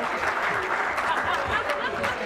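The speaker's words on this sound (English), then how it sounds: "I just want to give a big round of applause to Serena and Dick for tonight" A charity gala crowd gives a round of applause, the steady clapping carrying a faint murmur of voices and light chuckles underneath.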